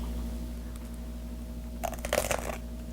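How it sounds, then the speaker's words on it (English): A crunchy crostini topped with edamame hummus and roasted red pepper relish is bitten into close up, giving a short burst of crisp crackling crunches over a steady background hum. "Obviously the crostini is crunchy,"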